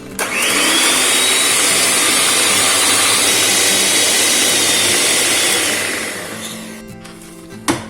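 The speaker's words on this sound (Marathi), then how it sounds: "आता हे फुल स्पीडवर व्यवस्थित फेटून घेणार आहोत" An electric beater whips cream for chocolate ice cream at full speed, a loud continuous whine that holds steady, then winds down and stops near the end.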